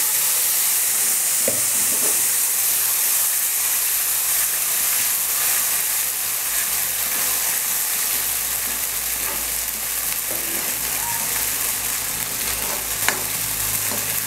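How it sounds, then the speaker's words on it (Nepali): Tomato paste frying in hot oil with sesame seeds for a Nepali tomato pickle, giving a steady, close sizzle and hiss with occasional stirring scrapes, no voices. "तिलको दाना फ्राई भइसकेपछि अब यसमा अघि पेस्ट बनाएको यो टमाटर राखिदिनु"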